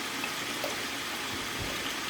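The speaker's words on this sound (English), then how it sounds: "now we're going to add our water" Water being poured from a bottle into a pot of rice for a Puerto Rican dish, a steady continuous gushing pour close by, with no talking.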